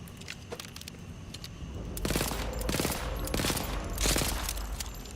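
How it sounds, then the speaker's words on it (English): Gunfire in Borderlands 4, a weapon firing bursts of four shots at a time, with rapid close cracks coming in clustered volleys that grow louder and denser partway through, with no talk. "It fires 4 shots at a time."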